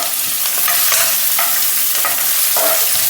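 Ginger and green chillies sauté in a hot pan, a steady close sizzle broken by repeated scraping stirs of a spatula at an uneven rhythm, with no talking.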